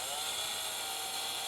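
A large Stihl MS-660 chainsaw cuts wood to build bench furniture, holding a steady high-pitched buzzing whine at moderate level throughout the short stretch.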